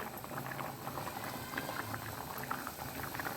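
A pot of mung dal usal curry boils hard over a high flame, giving a dense, steady bubbling and popping that runs evenly and close throughout with no voices.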